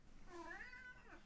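A pet cat gives a single drawn-out meow, rising and falling in pitch, fairly faint against a quiet indoor background with no talking.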